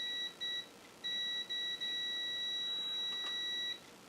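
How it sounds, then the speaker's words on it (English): An Amiga 2000 board under test gives off thin, high electronic beeps in short bursts with gaps between them, then a longer steady tone, faint and close, with no one talking. "Sorry about the beeping."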